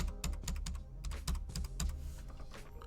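A new password is typed on a computer keyboard as a quick, close run of crisp key clicks over about three seconds, with no voices.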